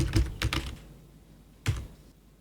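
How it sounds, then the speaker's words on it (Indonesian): Close computer keyboard typing, a soft cluster of key clicks followed by a pause and then a single louder tap, in a quiet room. "Kita ketik dulu lainnya"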